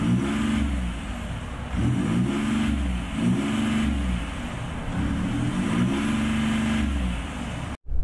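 A modified Ford F-150 Powerstroke truck drives on the road, its engine humming steadily from inside the cab with rhythmic swells of revving, over continuous road and tyre noise, with no talking.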